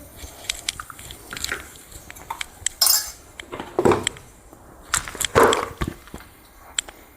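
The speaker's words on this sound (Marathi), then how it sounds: "आता हे मिक्स करून घेते मी मिश्रण" A spoon stirring moong and matki appe batter in a bowl, irregular wet squelching and clinks against the bowl, close up with no talk.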